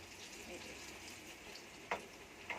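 Young methi (fenugreek) stems coated for pakoda fry in hot oil, giving a faint, steady hiss with two brief crackling pops near the end.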